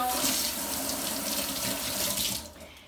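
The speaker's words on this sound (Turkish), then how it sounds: "Elimi yıkıyorum." Tap water runs steadily over hands being washed at a sink, a close, continuous splashing hiss that cuts off near the end.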